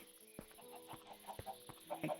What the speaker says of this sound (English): here's the chicken coop. I've got lots of cute chickens.